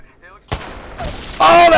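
Video game gunfire: a sharp close shot cracks out, then a louder blast lands about a second later in a very short burst.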